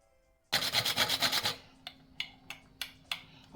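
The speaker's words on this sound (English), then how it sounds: "Here's my little grater and my nutmeg. I'm going to grate some to put in my porridge." Nutmeg is grated on a small hand grater for porridge: a fast, close run of rasping strokes, then several slower, separate scrapes after a short pause.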